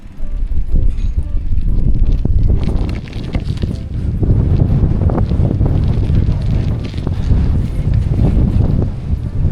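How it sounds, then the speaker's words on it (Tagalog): Strong, steady wind buffets the microphone with a loud low roar that gusts and dips briefly before surging again. "Lakas na hangin."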